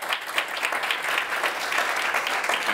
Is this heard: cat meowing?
no